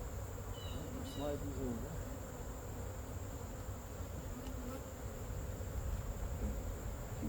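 Honey bees buzzing steadily around a hive in a garden apiary, a close, continuous insect drone with a few louder passes, while a person speaks briefly in the background.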